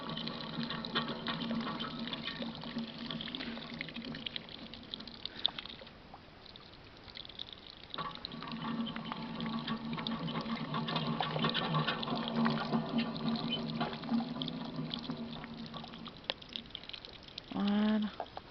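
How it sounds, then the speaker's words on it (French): Water runs from a tap in a quiet public park in Briare, a continuous splashing trickle close by, with a brief pause partway through before the flow resumes. "Là, il y a un robinet."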